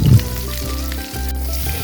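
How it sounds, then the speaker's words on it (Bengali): Fish frying in hot oil gives a dense, steady sizzle with bubbling crackle, close and fairly loud, lasting under two seconds without speech. "এখন মাছটা ভেজে নিচ্ছি।"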